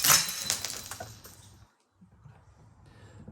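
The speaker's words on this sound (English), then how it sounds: "That was my screw cup with the screws magnetized, and it just got dropped" Magnetized cup of screws dropped during door disassembly on a 1988 K5 Blazer, a sharp metallic clatter that fades quickly, a brief silence, then faint scattered rattling.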